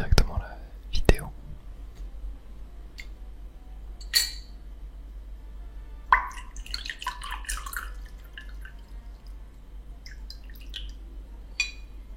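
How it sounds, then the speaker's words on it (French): Water is sipped from a glass in a quiet ASMR setting, with soft clinks and small wet drips and swallows spaced across the quiet, close and gentle. "Je vais boire un petit coup d'eau et on va démarrer directement la vidéo."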